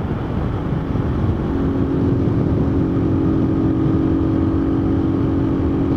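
A new zero-kilometre motorcycle engine being run in on the road at around 120 km/h, a steady loud droning hum with a constant engine tone and wind rush, no voices.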